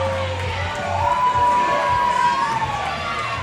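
Crowd at a live wrestling event cheering and shouting steadily, with a commentator talking over the noise.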